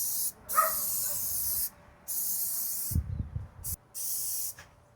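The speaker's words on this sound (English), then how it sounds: "I like to spray around these areas right here too." Fly bait is sprayed around windows in repeated long bursts, a loud close hiss that cuts on and off four times, with a faint thump and a dog's bark in the background.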